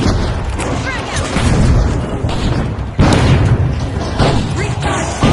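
A frag grenade detonates in The Finals, a heavy booming blast followed by crashing debris and further bursts amid busy combat noise, with voice callouts heard through it.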